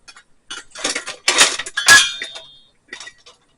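Metal camping cook-set pots and lids clink and clank together in a few quick bursts, one ringing briefly, then a couple of lighter taps.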